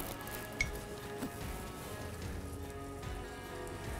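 Fresh fiddleheads sizzling in a cast iron pan over an open fire, a soft continuous crackling sizzle with a couple of small pops, close but quiet.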